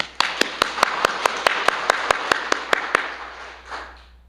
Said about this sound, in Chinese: 那我们大家给他鼓掌